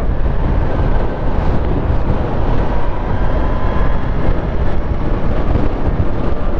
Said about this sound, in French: le bruit du vent commence à devenir vraiment présent sur le casque